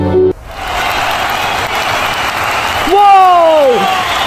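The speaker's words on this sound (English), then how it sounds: "There seems to be a commotion. The crowd is going crazy." A cricket stadium crowd cheering and applauding in a loud, continuous roar, with a rising whoop cutting through near the end.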